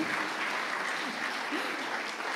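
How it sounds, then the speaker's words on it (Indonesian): An audience applauds at a talk show with the Governor of Central Papua, a steady, even wash of clapping from many hands throughout, moderately loud and without pauses. "Tepuk tangan dong luar biasa."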